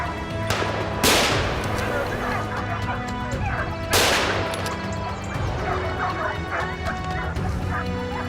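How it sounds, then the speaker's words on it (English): Two sharp, loud gunshots ring out a few seconds apart in a forest during a hunt on a herd of wild boars, set against a steady tonal background. "In the vast forest, gunfire occasionally rang out"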